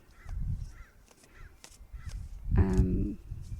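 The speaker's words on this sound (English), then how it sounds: "There's a crow that's definitely trying to get our attention right now." A crow caws several times in a steady series of harsh calls, fairly close and clear, with a louder, longer outburst near the end.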